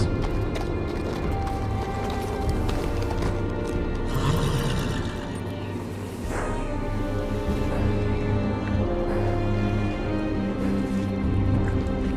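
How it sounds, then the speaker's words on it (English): A horse rides up to the gate at Castle Black in Telltale's Game of Thrones video game, steady clip-clop hoofbeats continuing throughout over a constant ambient background. "On a horse, no less."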